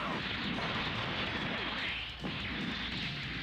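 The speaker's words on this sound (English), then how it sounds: "now I finish it with my break cannon." The Break Cannon attack blast from Dragon Ball Z: Budokai Tenkaichi 3 makes a loud, sustained roar of explosive energy. It briefly dips around its midpoint and then surges on.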